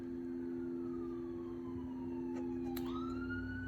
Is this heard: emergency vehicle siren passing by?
yes